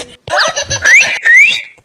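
Whistling in a Chhattisgarhi cartoon: a loud, close sequence of short chirpy whistles with rising sliding tones, broken by brief gaps.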